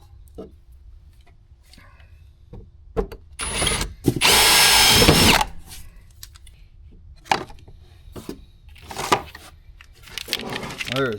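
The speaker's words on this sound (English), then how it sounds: "I'm gonna get a drill and drill that rivet out." A close electric drill whirs loudly for about a second drilling out a rivet on an EZGO golf cart, bracketed by scattered clicks, clunks and handling noises from nearby work.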